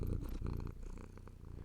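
A cat purring steadily and close while kneading on a person's leg, a soft continuous rumble with no talk.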